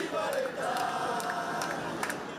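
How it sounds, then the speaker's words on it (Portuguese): Racing football supporters party at a beachfront kiosk in front of a hotel in Barra da Tijuca, a steady crowd din of chanting and shouting voices filling the whole stretch. "A torcida do Racing faz festa no quiosque em frente ao hotel, na Barra da Tijuca"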